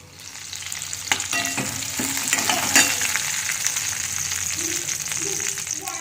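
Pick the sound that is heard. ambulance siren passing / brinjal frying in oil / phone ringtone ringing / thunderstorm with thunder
brinjal frying in oil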